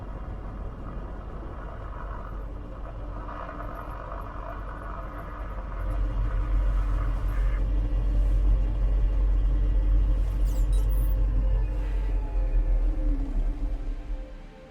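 Storm on Mars in the Deliver Us Mars video game, a steady low rumble that swells louder around midway and holds as a deep, continuous roar with no voices.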